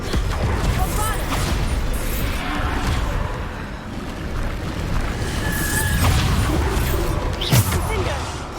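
A Bombarda blasting spell in Hogwarts Legacy goes off amid a loud, continuous wash of booming rumble and crackling debris, sustained for several seconds, with a voice speaking over the chaos.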